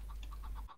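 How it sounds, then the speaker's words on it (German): Minecraft chickens clucking in a quick run of about six short, evenly spaced clucks, close and fairly soft over a low steady hum, with no talking. "Wie viele Hühner sind hier eigentlich, ey?"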